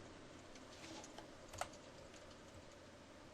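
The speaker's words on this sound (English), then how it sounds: "all you do is type your question here." Keys tapped on a computer keyboard at a fast, irregular pace, typing a question into a text box. The clatter stays faint and close, with one sharper keystroke standing out and no voices.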